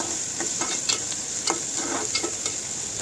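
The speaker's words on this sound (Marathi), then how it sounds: "आता यामध्ये थोडं जिरं घालूयात, बारीक चिरलेला कांदा व कढीपत्ता घालूयात" Cumin, finely chopped onion and curry leaves fry in hot oil and ghee, a close crackling sizzle broken by quick rhythmic spoon stirs and scrapes, with no talking.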